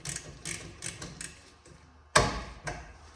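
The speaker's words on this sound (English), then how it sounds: "Get our old ratchet out here now. I'm going in here and take off these 2 caliper cradle bolts." A ratchet loosens the 14 mm brake caliper cradle bolts on an Acura, clicking in short close bursts before a sharp metallic clank and a final click.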